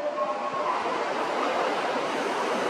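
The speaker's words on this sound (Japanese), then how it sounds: "一番線に学研なら富ヶ丘行きが到着します。" Osaka Metro 7000 series train pulling into Tanimachi 4-chome station, a steady rushing roar of the arriving cars filling the underground platform, loud and close with no talk.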